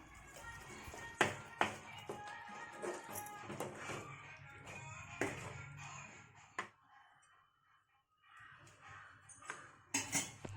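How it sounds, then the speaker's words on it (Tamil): Turkey berry chutney being stirred in a pan with salt, giving soft, irregular scraping and clinking of a spoon against the pan, fairly quiet with brief pauses and no speech. "தேவையான அளவுக்கு உப்பு சேர்த்துக்கிட்டு இதை நல்லா கிளறி விட்டுக்கலாம்."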